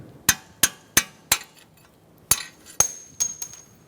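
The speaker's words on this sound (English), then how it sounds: "We might need a punch on the other end. Try tapping it out." Sharp metallic hammer taps on a bolt in the front axle of a 2013-2022 Buick Encore during a CV axle job, four evenly spaced strikes, a pause, then several more ringing hits, close and clear with no talking.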